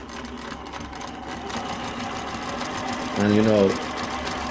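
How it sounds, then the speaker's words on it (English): New Tech GC-20U93D direct drive zigzag lockstitch sewing machine running a short zigzag burst with the needle set left, a brief loud whirring run under and after a person talking. "when you do the needle to the left and you're doing zigzag"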